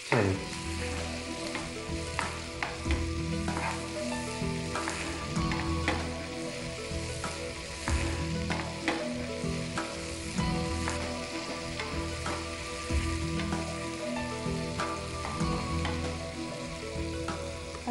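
Shredded cabbage and minced meat sautéing in ghee in a pan, a steady close sizzle broken by regular scraping and stirring strokes, with no talk over it.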